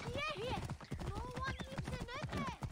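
Steady clip-clop of horse hooves with occasional whinnies in Assassin's Creed Origins, mixed with game music and a voice talking over it.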